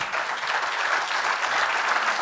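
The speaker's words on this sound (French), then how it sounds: "On peut les applaudir." A crowd at a French regional crafts and building trades awards ceremony applauds the trophy winners, a steady, even burst of clapping from many hands that stays loud for the whole stretch.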